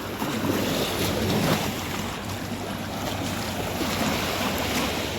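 A calm sea off the Kerala coast laps softly with small waves, a steady wash of surf under light wind buffeting the microphone, with no voices.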